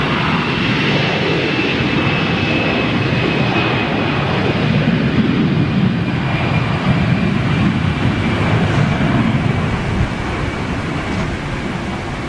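A jet airliner in a retro Lufthansa livery takes off at Munich Airport, giving a steady, broad engine roar heard from a distance that holds constant throughout, with no voices.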